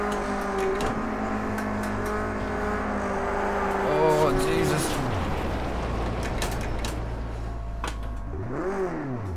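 Race cars in Project Cars 2 roar and rev through gear changes, engine tones climbing and dropping as cars pass, continuous and fairly loud, with voices talking over the racing.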